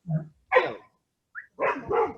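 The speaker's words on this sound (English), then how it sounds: "I'm sure my dog's going to answer in a minute too." A dog barks nearby in a few sharp separate woofs with short pauses between them, loud and clear against silence.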